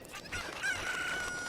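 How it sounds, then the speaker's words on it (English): Chickens in the Ocarina of Time video game cluck and give a drawn-out crow, heard at moderate volume over a faint background with no speech. "Yeah, this is just chickens."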